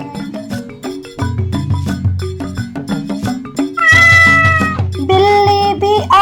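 A cat meows a few times in a Hindi/Urdu children's nursery rhyme about a monkey opening a shop, the short tonal cries sitting loud over a busy, bouncy musical backing.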